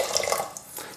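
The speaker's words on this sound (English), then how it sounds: "So I'm just going to add some water. This is from a kettle that was boiled not long ago." Recently boiled water from a kettle poured into a bowl, a short, bright trickling splash heard up close with no voices.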